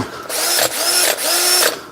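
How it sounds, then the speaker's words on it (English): A cordless drill whirs in three short bursts, each spinning up to a steady high whine before stopping briefly. "Try and drill."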